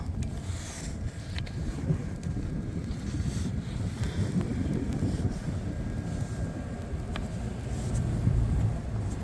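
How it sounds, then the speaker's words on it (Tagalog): Strong wind roaring steadily during a snow storm in Canada, a dense low rumble buffeting the microphone with no pauses. "Dito papunta yung hangin."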